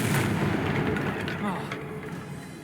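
Booming blast from the Confringo fire curse in Hogwarts Legacy, a loud rumbling explosion that fills the whole moment and slowly fades with some mid-range crackle.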